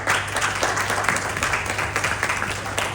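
Audience at a stage event launching a VR temple darshan experience applauds, a dense wash of clapping at steady, moderate loudness, with a faint steady hum beneath it.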